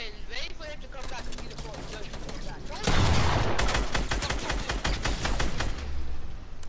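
A minigun in the video game Fortnite fires in a long, rapid burst of gunshots, loud and close, starting a few seconds in. Players talk over the gameplay before and during the firing.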